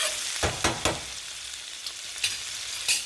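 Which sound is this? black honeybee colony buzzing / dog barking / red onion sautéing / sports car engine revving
red onion sautéing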